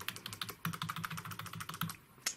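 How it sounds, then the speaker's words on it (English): Random keys pressed on a computer keyboard while testing a GameSir X1 BattleDock, a quick, uneven run of close, crisp clacks and taps, fairly quiet, with no talking. "to see if the keyboard's working, I'm just gonna hit random buttons"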